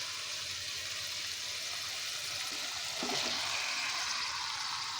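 Spice masala sizzles steadily in a pan as it is stirred before chicken goes in for a restaurant-style chicken rezala, a continuous close frying hiss with soft scraping near the end.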